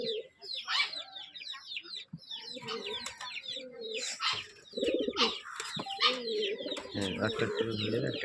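Kalo Jack pigeons coo in a loft in a series of close, throaty calls and rolling burbles. Other birds chatter behind them, and a few wingflaps and rustles come through.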